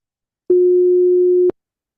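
An aliased A note tone, pitched lower at 360 Hz, plays as a single steady sine beep lasting about a second, with sharp clicks at onset and cutoff and silence around it.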